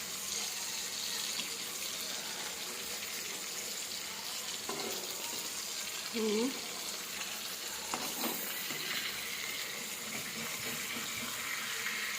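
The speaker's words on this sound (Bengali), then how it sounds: "এই যে দেখতে পাচ্ছেন মাছ ভাজাগুলো আমি উল্টিয়ে দেবো" Fish frying in a pan make a constant broad sizzle, steady and fairly close, with a few faint clinks as pieces are turned.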